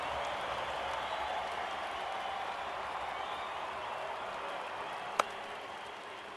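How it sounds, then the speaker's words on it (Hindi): A steady wash of cricket crowd applause at a distance, sustained and even, with one sharp click near the end. "ऐसी गेंद पर सिर्फ तालियां मिलती है, रन्स नहीं।"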